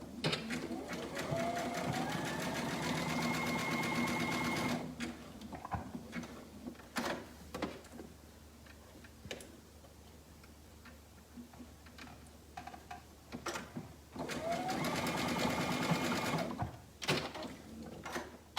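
A sewing machine runs along a garment side seam in bursts of steady whirring, loudest at the start and again later, separated by quieter stretches with ticking clicks, handling knocks and some talk.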